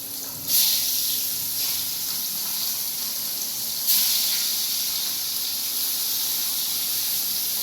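Stuffed bitter gourd sizzles loudly in hot oil with asafoetida over a lowered gas flame, hissing up sharply twice before settling into a steady, even sizzle.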